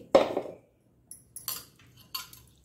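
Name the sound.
mixer grinder jar being handled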